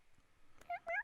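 A human voice imitating a cat, giving two short meows in quick succession near the end, fairly close and clear against a quiet background.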